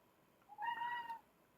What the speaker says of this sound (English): That's my cat Felix in the background